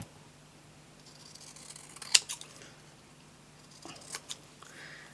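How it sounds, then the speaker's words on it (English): Long scissors cut around a stamped and coloured card image on a crafting desk, giving a few sharp, close snips spread apart with quiet pauses between them. "so I'm just going to use my long scissors."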